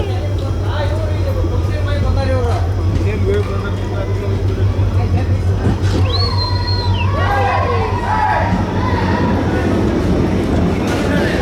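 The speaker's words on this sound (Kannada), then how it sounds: "ನಮ್ಮ ಟ್ರೈನ್ ಎಂಟರ್ ಆಗಿದ್ರಿ ಈಗ ಕುಕ್ಕನೂರು ರೈಲ್ವೆ ಸ್ಟೇಷನಿಗೆ" A train rumbles steadily into Kukkanur railway station on the first Kushtagi–Hubballi run, with a continuous low drone, a brief horn-like tone midway and a festive crowd around, while someone talks over it.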